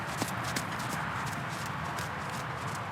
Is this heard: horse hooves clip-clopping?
yes